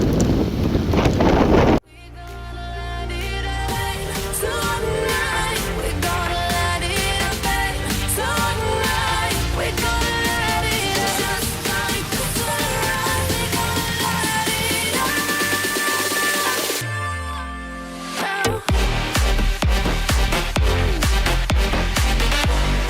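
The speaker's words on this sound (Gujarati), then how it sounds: "પવન છે અત્યારે બહુ એટલે વધારે પવન છે" Strong wind at the Ratneshwar Mahadev temple buffets the microphone in a continuous loud roar, broken by a couple of abrupt cuts and gusty surges.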